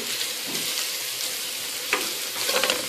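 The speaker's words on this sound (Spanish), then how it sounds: "vamos a agregar entonces ahora nuestro ajo" Garlic hits mushrooms already frying in a pan, giving a steady, bright sizzle close by with a few sharper crackles and stirring scrapes, no voices.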